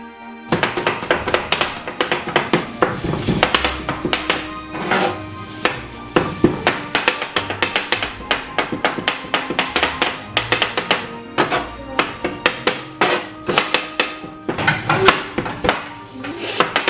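Metal blades chop mutton kothu roti in a fast, steady stream of sharp, close clanging taps that keeps up unbroken for the whole stretch, with no voices.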